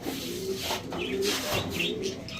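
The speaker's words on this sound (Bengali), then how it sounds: "দেখেন দর্শক কবুতরটা দেখেন" Several soft, throaty coos from a male Jabra pigeon repeat in a steady rhythm close by, with faint chirps and rustling mixed in.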